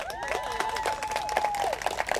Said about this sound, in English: the awesome crowd out here, clap it up for yourselves.